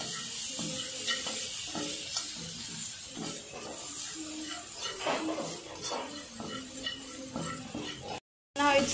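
Ginger sizzles in a small amount of hot oil while a utensil stirs and scrapes the pan in short bursts, a steady frying hiss under background music.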